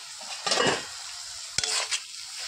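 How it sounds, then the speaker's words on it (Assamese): Fish and taro are stirred in a pot: two short bursts of spoon scraping and a clank over a low background sizzle, close by and without speech. "অকণমান লৰাই দিছোঁ"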